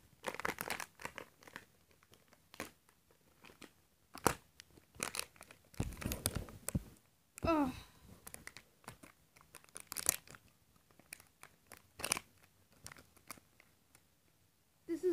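An eBay package is opened and handled up close, giving bursts of crisp plastic crinkling, tearing and rustling separated by short quiet gaps.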